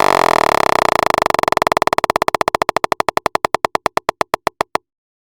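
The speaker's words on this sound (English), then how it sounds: "I basically just loaded a little click in a simpler here, and I just modulated the length of the loop itself." A short click looped in Ableton Simpler repeats as its loop length is modulated, starting as a dense buzzing blur and slowing into distinct, evenly spaced clicks that spread further apart before cutting off.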